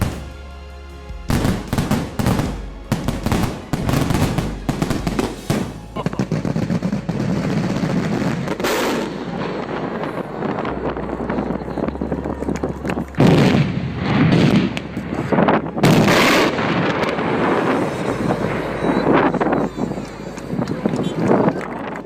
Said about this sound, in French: Superbe feu d'artifice de jour au musée d'art moderne de Doha, au Qatar.